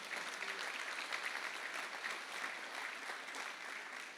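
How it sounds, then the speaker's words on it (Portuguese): A church congregation applauds during a worship service, a steady, sustained wash of many hands clapping, fairly distant and even throughout. "Você pode dar um aplauso ao Senhor"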